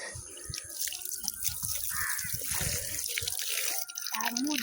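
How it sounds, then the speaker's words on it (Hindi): Water runs from a pipe rigged for washing the face outdoors, a steady splashing stream with drips and irregular spatter throughout, fairly close and continuous. "एमे पाइप घुसा कर देख पानी आब छे"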